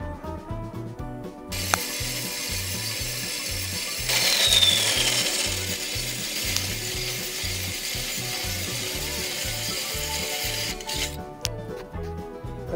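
Power saw making 45-degree cuts through wood, a steady loud buzzing cut with a sharper, denser burst in the middle, running nearly continuously with a rhythmic mechanical chatter underneath.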